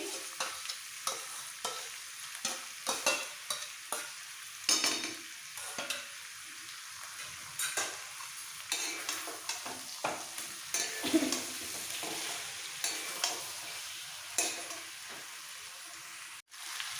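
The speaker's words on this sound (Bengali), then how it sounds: "দই দেওয়ার পর দু এক মিনিট কষিয়ে" Chicken sautéed with whipped sour yogurt in a pan for biryani gives a continuous crackling sizzle. Frequent stirring scrapes run throughout, close and moderately loud, with no voices.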